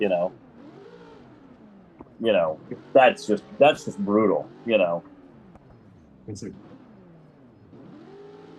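Engines of race cars in a sim racing video game at Glen Helen whine, rising and falling in pitch, beneath a commentator talking in bursts.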